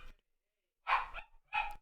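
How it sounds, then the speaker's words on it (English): A pet dog barks indoors, two or three sharp barks close by with brief silence between them, fairly quiet overall. "Also, my dog bark."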